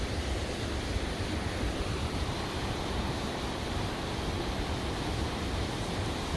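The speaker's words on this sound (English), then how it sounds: "when you get down there you realise it's actually a seething torrent" A seething river torrent roars at the bottom of Tiger Leaping Gorge, a dense, steady broadband rush of churning water that holds evenly loud and close throughout, with no voices over it.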